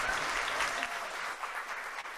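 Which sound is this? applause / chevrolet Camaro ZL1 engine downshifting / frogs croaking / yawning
applause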